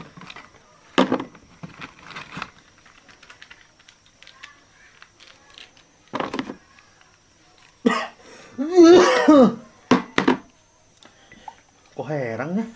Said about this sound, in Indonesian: Aduh, batuk berat.